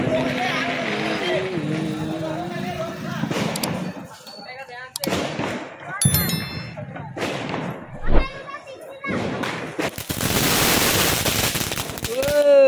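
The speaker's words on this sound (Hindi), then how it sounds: "देखते हैं कि इसमें हम फोड़ते हैं इसकी आवाज़ कैसा है।" Several sharp Diwali firecracker bangs and crackles pop in quick succession, mixed with people talking and chattering nearby.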